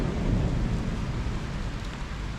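Steady rain pours down in Italy with a dense, even patter and a low rumble beneath it, continuous and fairly close.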